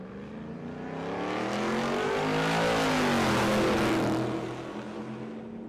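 A drag racing car and a truck launch side by side down the strip at Tulsa Raceway Park, engines building into a loud sustained roar with rising pitch that swells for several seconds, then eases off as they pull away.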